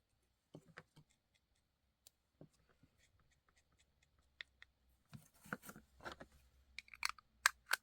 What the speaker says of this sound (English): I'm just going to run my ink across the edges just to cover that white edge of the paper